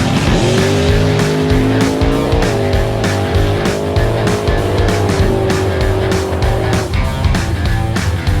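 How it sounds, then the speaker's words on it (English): A drag race car with a small-block Chevy engine launches hard, its loud, steady engine roar holding close and continuous with a brief shift in pitch partway through. "video of the car launching"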